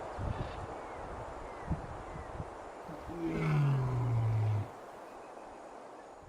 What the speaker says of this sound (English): The lion's roar is one of its most effective tools. It can be heard for several miles.